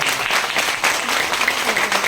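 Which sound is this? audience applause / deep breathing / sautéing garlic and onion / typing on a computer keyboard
audience applause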